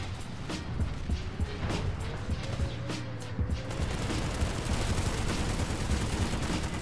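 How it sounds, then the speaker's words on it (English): Gunfire in the PS4 shooter Planetside 2, dense overlapping shots and bursts of automatic fire over a rumbling vehicle-like background, continuous and fairly loud. "Who's shooting who?"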